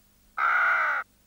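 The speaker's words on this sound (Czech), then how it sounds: "Vidíš? Krkavec." A single raven gives one long, harsh caw lasting under a second, close and loud against a quiet background, in a 1993 Czech fairy-tale film.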